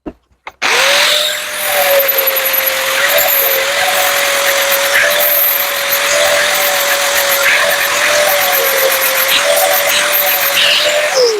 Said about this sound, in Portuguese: Agora vamos aqui para o disco 120, para deixar mais perfeito o acabamento.